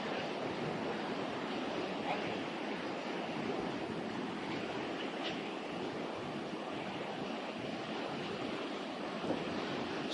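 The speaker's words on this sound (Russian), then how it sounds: "Широкая полноводная река." The wide, full Bzyb river in Abkhazia rushes beneath a bridge in a steady, dense roar, continuous and fairly loud, mixed with some wind buffeting.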